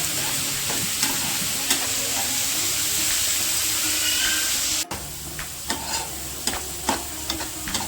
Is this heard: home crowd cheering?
no